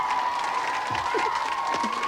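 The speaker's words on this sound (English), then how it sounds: "That crowd is crazy about here." Game-show studio audience applauding and cheering, a steady wash of clapping and crowd noise held at moderate level throughout with no clear pauses.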